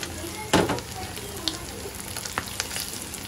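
Tilli (spleen) frying with onion and dried chili in a pan, a faint, steady sizzle broken by a sharp stirring clatter early on and a few light scrapes.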